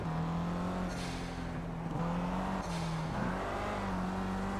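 A KTM X-Bow sports car engine in the racing game Project CARS holds a steady, fairly quiet drone with a few pitch dips and climbs, while faint hissing swells pass now and then.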